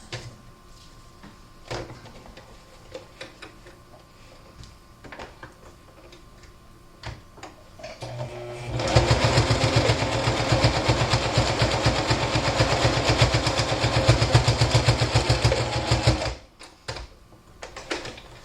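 A sewing machine runs a close zigzag stitch on a cotton mask, a steady rapid chatter for about seven seconds after scattered ticks and clicks, then stopping abruptly.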